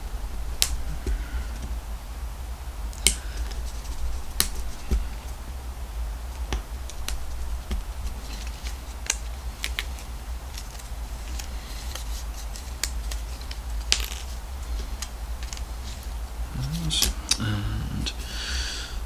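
Someone cuts out the base and upright pieces of an OO gauge village well model kit, with a string of small, sharp snips and clicks close by over a quiet background. A brief voice comes in near the end.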